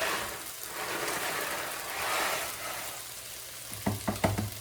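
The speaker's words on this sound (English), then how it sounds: "we can see our boiling water over here is ready to have our pasta be thrown into it" Rotini pasta is poured into a pot of boiling water for a creamy chicken sausage dish, with steady bubbling and sizzling followed by a few quick clattering pours near the end.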